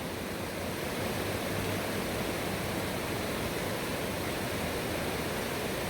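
Clear creek water near a reservoir and chairlift rushes steadily, a dense, even hiss of flowing water with no pauses, close by and with no voices.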